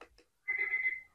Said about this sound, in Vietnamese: ở đây là tiếng chuông của báo thức.